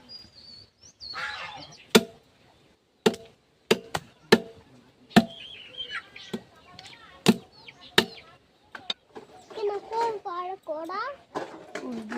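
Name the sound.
chopping duck meat into small pieces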